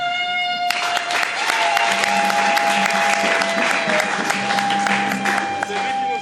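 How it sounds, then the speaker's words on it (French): A congregation at a Mass bursts into sustained applause, dense clapping filling the room for several seconds, with a steady tone and some murmuring beneath it. "Je voudrais qu'il se lève et qu'on applaudisse pour lui."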